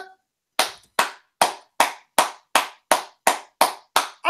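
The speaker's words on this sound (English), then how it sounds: "I'm clapping my hands" A person claps their hands in a steady, evenly spaced series of about ten sharp claps, close and loud, each ringing briefly before the next, with no speech.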